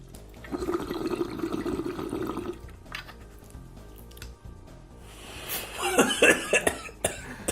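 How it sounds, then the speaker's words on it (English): A bong hit taken while wearing makeup: a long steady bubbling of water through the pipe, then a burst of harsh, loud coughing near the end. "I've taken many a bong rip in my day, but never with makeup on"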